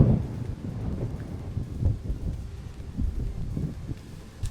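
Strong wind gusts of 60 to 65 buffet the microphone under gum trees in low, rumbling gusts that swell and ease unevenly, steady and close, with no voices.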